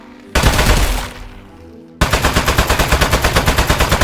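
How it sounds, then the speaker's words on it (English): Gunfire in the video game Aperture Desk Job: a loud sustained burst, then a rapid, evenly spaced machine-gun-like stream of shots, close and dominant. "Keep shooting him."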